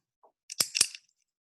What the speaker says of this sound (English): Did you hear a pen clicking?